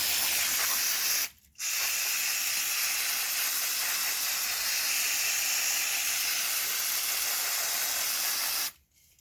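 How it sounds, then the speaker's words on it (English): Brake cleaner sprays from an aerosol can in one long, steady hiss that drenches a car part, with a short break near the start and a cutoff at the end. "Drenched in brake cleaner."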